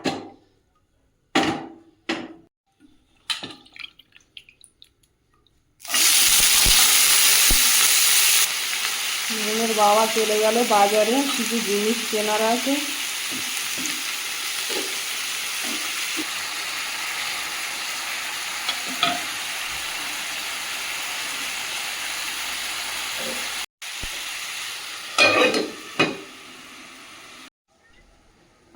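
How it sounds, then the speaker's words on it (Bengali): Potatoes and beans fry in oil in a frying pan: a loud, steady sizzle bursts in and holds for over twenty seconds, with someone talking over it and a few clinks before and after. "ফ্রাই প্যানটা চাপিয়ে দিয়েছি আলু ভাজার জন্য, দিয়ে দেব তেল।"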